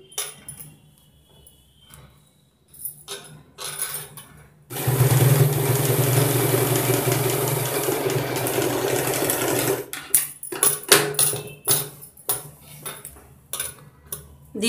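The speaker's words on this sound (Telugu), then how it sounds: "ఇలా ఈ వంపు మీద కుట్టు కుట్టేసుకోవాలండి ముందు" Sewing machine stitching along the curve of a blouse: a loud, steady mechanical whirring run of about five seconds, framed by quieter clicks, handling taps and fabric rustles before and after, close up with no talk.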